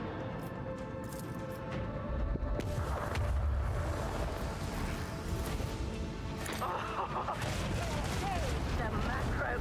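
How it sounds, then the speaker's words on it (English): A macro cannon fires in the video game Warhammer 40k: Rogue Trader, with booming volleys and crashing impacts that swell midway and rumble on amid other game sounds. "The macro cannon."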